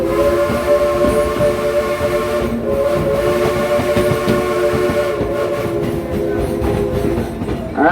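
An amusement park train rolls along its track with a steady rumbling clatter and sustained whistle-like tonal drones, close and continuous, with no talking.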